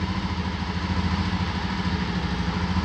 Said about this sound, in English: I hope you can hear the sound of the bike.